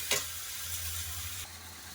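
Onion browned in oil, then ginger, garlic, green chili and tomato added for a potato-and-meat curry, giving a steady close sizzle with a sharp burst of stirring at the start and another scrape near the end, no talk.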